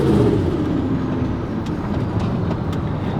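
A deep, loud turbocharged Chevrolet Silverado truck engine rumbles and roars steadily up close, its heavy exhaust drone filling the whole stretch with no voices.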